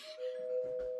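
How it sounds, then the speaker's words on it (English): A single sustained electronic doorbell chime rings steadily, fairly faint, over a quiet background. "That was my doorbell."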